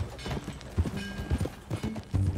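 Horse hooves clip-clop at a steady walking pace in Red Dead Redemption 2, close and moderately loud over faint background game sounds.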